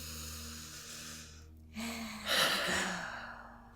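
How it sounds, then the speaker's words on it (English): Slow, deep breaths in and out during a mindfulness breathing exercise: a soft drawn inhale, a short pause, then a fuller, louder exhale, close and alone. "Let's take one more big, deep breath in."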